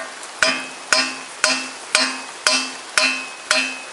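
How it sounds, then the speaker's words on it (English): Seven sharp metallic clangs from a metal pipe striking metal while removing a Toyota Corolla gearbox, evenly spaced about half a second apart, each ringing briefly before the next blow. "now I use this metallic pipe, and I hammer that couple of times"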